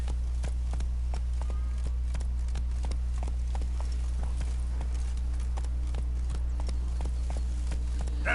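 Horse Roach galloping in The Witcher 3 on PS4 with a steady run of rhythmic hoof clip-clops over a constant low droning background, close and continuous.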